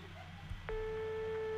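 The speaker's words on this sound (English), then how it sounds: "Phone call? I think it's a phone call." Phone in the video game HetaOni starts ringing with a steady electronic tone that begins abruptly after a low background hum and holds to the end.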